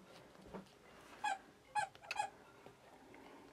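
A young puppy gives three or four short, high yips and squeaks in quick bursts, fairly close but quiet, over a faint indoor background.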